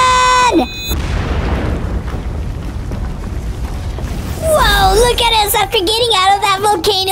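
A booming explosion in GTA 5 rolls out as a long low rumble after a short tone, then fades under bright, warbling game sounds and music.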